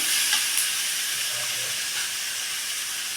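Onions and tomatoes sautéing in a pan for a cauliflower curry, a steady, fairly loud hissing sizzle with light stirring scrapes near the start.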